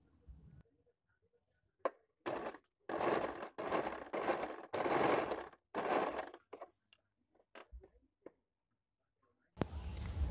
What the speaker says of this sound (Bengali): এতে কিন্তু আপনি অবশ্যই ডাবল সেলাই দিয়ে দেবেন।